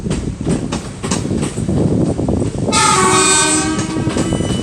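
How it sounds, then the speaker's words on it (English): A train at Crewe rumbles and clatters past close by, then a loud, sustained horn blast sounds over the rolling noise for the last couple of seconds. "Really blasting the horn."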